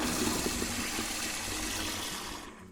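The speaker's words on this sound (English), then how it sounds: "Now we flush" A household toilet flushing, a rushing gush of water that holds steady and then drains away and tapers off near the end, heard alone.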